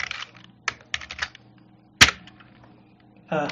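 Someone types a short word on a computer keyboard while working in Adobe Animate: a few sharp, close keystrokes in an uneven rhythm, then a louder single key press and a quick final burst of clicks.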